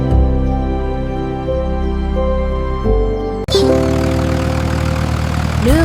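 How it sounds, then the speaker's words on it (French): A small tractor engine drones steadily up close, its pitch shifting as the throttle changes, then roaring louder and rougher after a brief dip. "Le rugissement du petit tracteur était fort."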